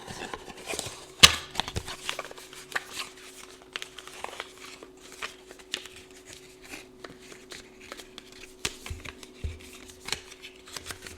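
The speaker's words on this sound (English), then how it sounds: "It's so fun to overhand shuffle that deck." Overhand shuffling of a playing card deck, with soft repeated riffling slaps and clicks in irregular bursts, fairly close and quiet, with no talking.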